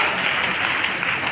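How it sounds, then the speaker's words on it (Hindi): Loud applause erupts at an industry gathering in honor of its founder, a dense, even roar of many hands clapping, filling the whole brief moment with no pause. "एक बार जोरदार ताली हो"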